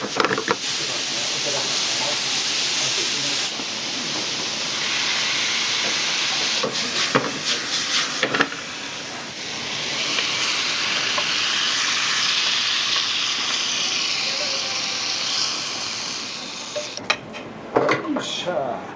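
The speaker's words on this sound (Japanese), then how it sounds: "肉野菜炒めて" Meat and vegetables stir-frying on a large flat iron griddle in a yakisoba shop, a loud steady sizzle and hiss with scraping and clanks of metal spatulas, while people talk over it; the sizzle eases at the end.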